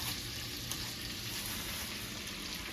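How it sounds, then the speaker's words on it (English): Green beans sauté in butter with a steady, even sizzle that holds at a constant level throughout, close and continuous with no voices. "green beans are sauteing in butter"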